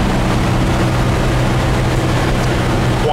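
A 1959 Volkswagen single cab pickup truck drives along the road, its engine and road rumble a steady, loud, continuous drone heard from inside the cab without talk.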